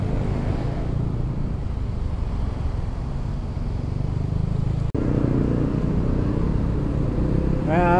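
A heavy traffic jam in Cibubur heard from a moving motorcycle, with a constant loud engine drone and road rumble throughout, broken by one sharp click near the middle.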